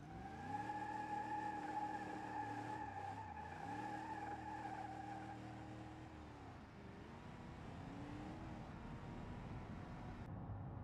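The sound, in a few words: 1970 Dodge Coronet R/T Super Bee accelerating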